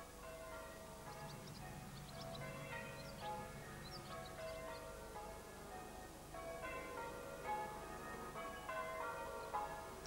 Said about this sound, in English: The church bells have echoed across the Wylye Valley for many centuries.